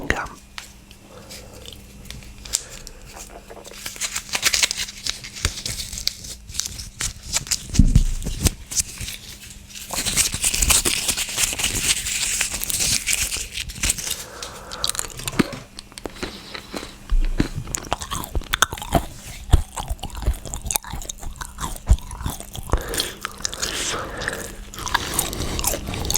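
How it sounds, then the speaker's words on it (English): Wrigley's Extra Cool Breeze chewing gum is chewed close to the microphone, with moist smacking and crunchy bites repeating irregularly, while someone talks softly in between. "I am going to be chewing Wrigley's Extra Cool Breeze chewing gum."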